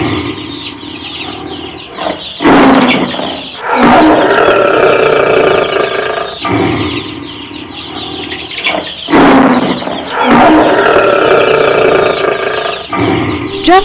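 A lion roars while caught in a hunters' trap in an animated children's moral story, giving loud, rough roaring bursts that repeat several times over a dense, busy animated soundtrack.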